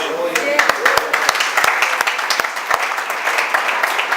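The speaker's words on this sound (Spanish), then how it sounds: "Den un aplauso a Jesús" Scattered, uneven clapping from a church congregation, individual claps standing out sharply over a general murmur, fairly close and moderately loud.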